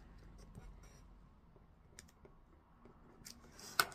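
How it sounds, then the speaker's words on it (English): Scissors snip through craft paper in a few soft, close cuts, faint and alone, with a sharper crisp snip right at the end. "I just pop that in there and I'll cut from that as I go"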